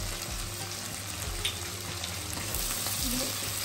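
Spice masala with ginger, salt, turmeric and a splash of warm water sautéing in a pan for crab kalia, a steady close sizzle with soft rhythmic stirring scrapes throughout.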